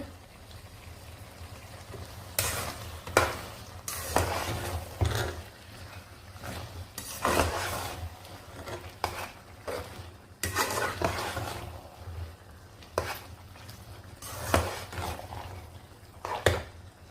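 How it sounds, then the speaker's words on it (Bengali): Tomatoes stirred and fried in a pan while cooking leafy greens, with repeated bursts of scraping and sizzling that rise and fall irregularly over a low steady hum. "এই টমেটোগুলো দিয়ে দিব অনেকগুলো টমেটো রেখেছি এখানে একটু নেড়ে ছেড়ে দিব"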